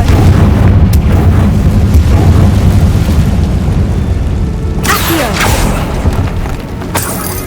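A Confringo fire spell bursts in Hogwarts Legacy inside a decayed catacomb, a heavy booming rumble sustained for several seconds before a sharper crackling burst near the end.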